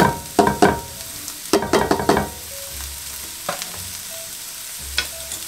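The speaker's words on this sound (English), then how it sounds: "we're just going to sweat off our onions" Onions sweating in about two tablespoons of olive oil in a pan on low heat, heard as soft sizzling under intermittent stirring and scraping bursts, with quieter stretches between.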